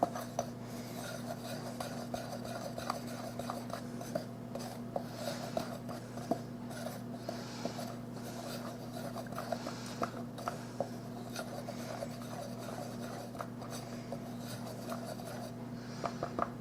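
Dry surprise pie ingredients, including baking powder, are mixed in a bowl with a utensil, giving a steady run of quiet, rapid scraping and tapping strokes throughout.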